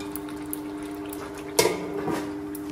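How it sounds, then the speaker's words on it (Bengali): Chicken kosha cooks in a pan with a low bubbling simmer, then a sudden metallic clank and scrape of a spoon stirring, close and moderately loud. "এই চিকেন কষা চলছে"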